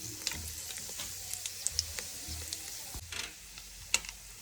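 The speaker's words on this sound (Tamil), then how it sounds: "கடுகு நல்லா பொரிஞ்சு வர டைமில் வரமிளகாய் சேர்க்குறோம்." Mustard seeds and dried red chillies spluttering in hot oil for sambar, a quiet, steady sizzle peppered with sharp, irregular little pops and crackles, heard close.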